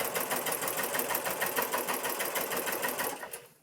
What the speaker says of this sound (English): Just keep stitching slowly and carefully around the entire hem with your row of basting stitches.